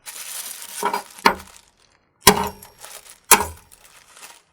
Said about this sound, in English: Let's break the bottle with a hammer and smash it up into pieces